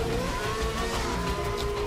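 Lewis Hamilton's Mercedes Formula 1 car, fitted with medium tyres, pulls away from a pit stop at the Mexican Grand Prix, its engine a loud, continuous high-pitched whine rising in pitch as it accelerates.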